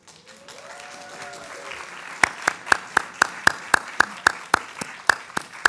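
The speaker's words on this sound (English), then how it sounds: "second round of applause" Applause at a book event for a novelist, opening as a soft crowd wash that shifts into a run of sharp, evenly spaced loud claps from one nearby pair of hands, with faint murmuring underneath.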